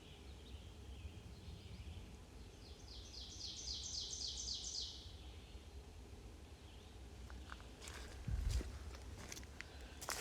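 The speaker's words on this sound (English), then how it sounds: "Birds are just singing." A single faint bird trill sounds in the distance over a quiet outdoor hush, followed by soft rustling and clicking steps.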